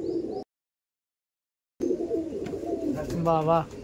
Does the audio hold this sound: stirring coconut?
no